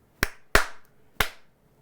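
Three sharp hand claps aimed at an original 1984 Clapper sound-activated switch, close and loud, the first two about a third of a second apart and the third after a longer pause, each with a short room echo.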